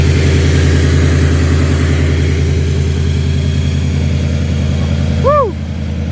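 A supercharged Dodge Hellcat with an ESS kit rumbles steadily and loudly at close range, its deep pulsing engine note holding through the whole stretch before easing slightly near the end.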